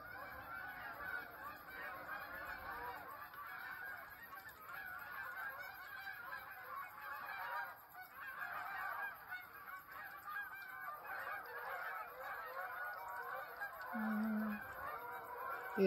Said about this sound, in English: Let's listen to the geese.